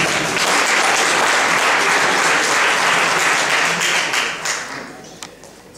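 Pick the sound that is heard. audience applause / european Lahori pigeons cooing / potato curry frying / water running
audience applause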